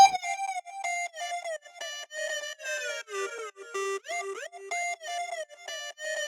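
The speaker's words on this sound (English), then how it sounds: "It's just a square lead with some delay and reverb on it" A bright, buzzy square-wave synth lead plays a stepping melody of short notes, trailing delay echoes and a roomy reverb wash behind each phrase.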